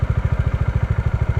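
A motorcycle in first gear at low revs, the clutch being eased out slowly, gives a steady, close chugging pulse of regular low thumps with a faint rattle, and no one speaks.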